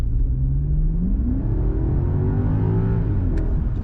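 A BMW M5's combustion engine accelerates in a steady rising drone with a gear change partway through, heard from inside the car and without talk.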